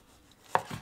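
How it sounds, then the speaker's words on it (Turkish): A single sharp knife chop through tomatoes on a cutting board, followed by a softer second tap, in an otherwise quiet room. "Domatesleri de olabildiğince ince ince doğrayalım."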